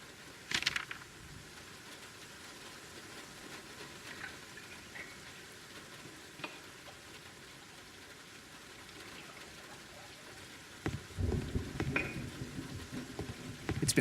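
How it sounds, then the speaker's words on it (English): Rain falling in the noir detective video game Face Noir, a faint, steady hiss of patter with occasional louder drips and splashes, growing busier toward the end. "It's been raining for days."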